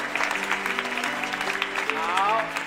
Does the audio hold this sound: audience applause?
yes